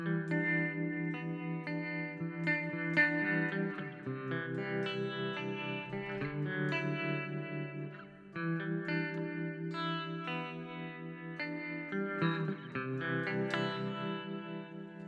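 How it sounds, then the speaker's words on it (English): Electric guitar played through Botanist reverb and tremolo pedals, paired with a Traveler pedal, ringing chords with washy, pulsing sustain and spacious echo tails, steady and continuous with no talking. "I mean, you gotta love some reverb and trem."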